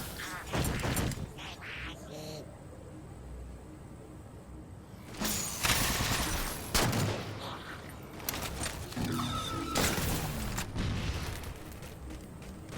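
Plasma turret fire in a Halo Spartan Ops legendary mission, heard as repeated sharp bursts and booms over dense game noise, with a loud cluster of shots mid-clip and more firing after.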